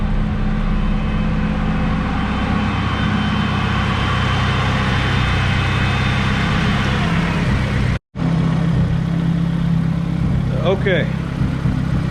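A car engine idles with a Spal electric radiator fan running behind a Skunk2 radiator, a steady low rumble and whooshing airflow that briefly cuts out, with a short spoken word near the end.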